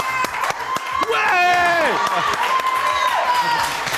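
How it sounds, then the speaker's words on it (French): A studio audience on a French TV news show applauds and cheers a guest's arrival, a bright wash of clapping under a loud host's voice and a whoop, with a tonal music sting sweeping through. "qu'on applaudit très fort"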